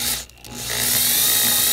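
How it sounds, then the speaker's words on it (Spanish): An electric drill whirs close by and rises in pitch as the trigger is pressed further, after a brief dip near the start, ending in a loud, steady whine. "voy presionando, el taladro agarra más velocidad"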